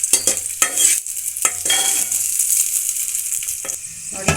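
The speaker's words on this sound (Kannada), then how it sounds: "ಇವಾಗ ದ್ರಾಕ್ಷಿ ಹಾಕ್ಕೊತಾ ಇದ್ದೀನಿ." Raisins sizzle as they fry in a pan for sago payasam. A spoon scrapes and stirs in close, repeated strokes, and the crackle stays loud and near from start to finish.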